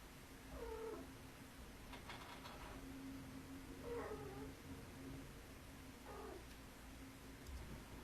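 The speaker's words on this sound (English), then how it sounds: "Come here, kitty cat." A cat caterwauls and meows in three separate drawn-out calls spread over several seconds, faint and slightly distant over a low steady hum.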